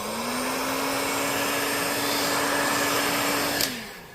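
A heat gun blows with a steady, loud whirring hiss as it shrinks heat-shrink wrap onto battery cells for a DeWalt battery pack, then cuts off and winds down at the end.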